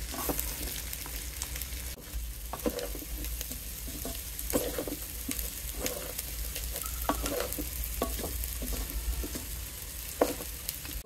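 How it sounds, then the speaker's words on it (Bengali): Rice for spicy chicken pulao fries in a hot pot with continuous crackling sizzle and repeated scraping and stirring of a spoon, close and steady throughout. "চালটা খুব ভালো করে ভেজে নেব, পোলাওটা হবে ঝরঝরা।"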